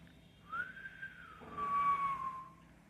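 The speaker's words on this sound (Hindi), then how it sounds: "सीटी बजा रहा है" A single whistle call blown to summon an animal: one clear, rising then sustained tone that bends down at the end, fairly loud over a quiet background.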